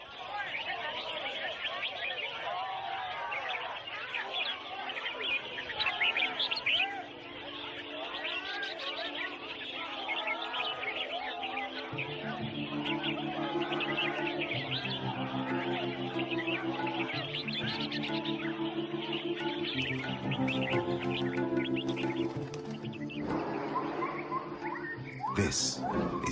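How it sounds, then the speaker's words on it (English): Exotic birds, captured in the rainforest, sing at a marketplace bird-singing competition. Their warbling and trilling rises above a steady crowd murmur, with voices talking throughout and a repeated tonal chime pattern in the second half. "people have gathered to sell exotic birds, illegally captured in the rainforest, sold for the highest bid, and here participating in a bird singing competition"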